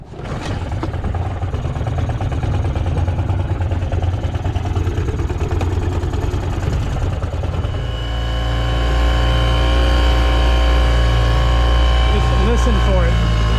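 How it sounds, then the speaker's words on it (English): A boat's outboard motor starts and runs with a rough, uneven, stumbling note, then its pitch rises and it settles into a louder, droning idle. "I'm going to start the engine and you can listen and just tell me what you think."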